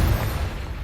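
Confringo spell blast in Hogwarts Legacy, a short, loud, low-heavy burst that rumbles and fades within a second.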